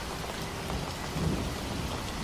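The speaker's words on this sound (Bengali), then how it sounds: "দেখছো কেমন ঝড় বৃষ্টি শুরু হয়েছে? আর কি জোরে জোরে মেঘ ডাকছে" A heavy thunderstorm during the Baishakh season fills the clip with a dense, loud roar of rain pouring on surfaces and deep rumbles of thunder rolling underneath, with no one speaking.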